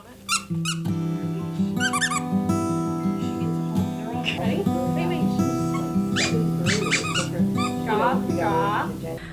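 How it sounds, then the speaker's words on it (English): A playful puppy yips, whimpers and squeaks in bursts during a visit to a school wellness center, close and lively, over steady background music and talking. "playing with a puppy or a dog can be downright therapeutic"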